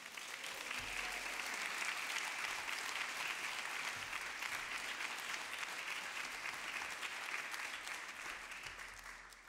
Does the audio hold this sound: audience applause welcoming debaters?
yes